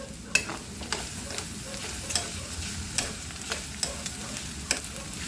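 Pork binagoongan with plenty of garlic fries over high heat, a steady close sizzle broken by regular clinks and scrapes of a utensil stirring in the pan.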